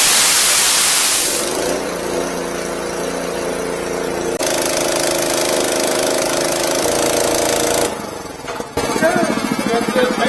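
A mini truck's small carburetted engine idles steadily after being tuned, a continuous mid-pitched chug running close by, with a voice speaking over it and the engine note dipping near the end.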